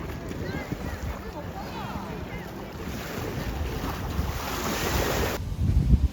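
Surf washes steadily onto a beach in Okinawa with warm, very salty water, mixed with gusting wind buffeting the microphone. The roar holds constant and grows a little louder and rougher near the end.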